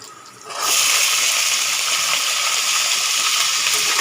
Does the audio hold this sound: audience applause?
no